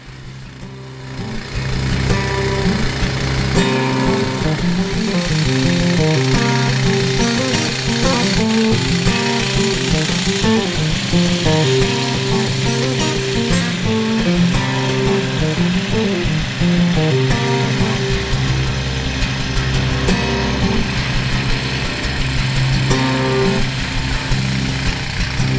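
A HUD-SON Oscar 121 portable sawmill cutting a log, its engine and blade making a loud, steady roar that holds for the whole stretch with a rough, pulsing low rumble and no pauses.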